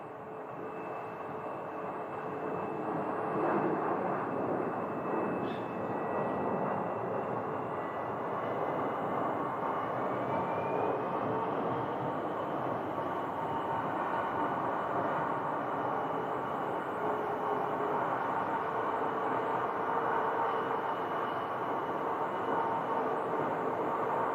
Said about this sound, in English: And here is the Alaska One World aircraft, the One World 737.